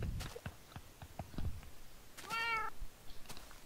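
A cat in the Minecraft video game lets out a single clear meow partway through, preceded by scattered soft clicks and tapping game sounds.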